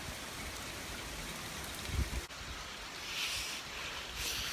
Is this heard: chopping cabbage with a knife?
no